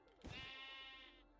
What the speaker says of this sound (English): It's a Jeb sheep.